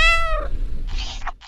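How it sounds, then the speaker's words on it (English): A single close, loud cat meow rises and falls, followed by a short breathy sound, in a children's alphabet song. "C is for cat."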